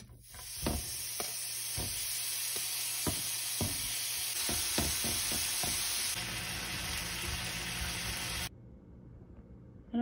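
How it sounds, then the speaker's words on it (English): Small pieces of low-grade bacon fry in a pan, giving a continuous close sizzle dotted with sharp pops and crackles, cutting off abruptly near the end. "Lots of smaller pieces of bacon that we're gonna fry up."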